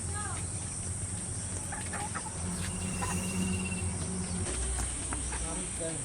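A live hill rooster clucks intermittently at close range, set against dense, steady cricket chirring and distant rural background sound.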